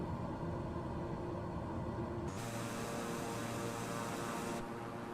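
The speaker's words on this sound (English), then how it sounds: "I dialed the props back to 1500 RPM on this King Air." Beechcraft King Air turboprop propellers dialed back to 1500 RPM in Microsoft Flight Simulator, a steady, even droning hum that holds throughout with a brief shift in tone partway through, no voices.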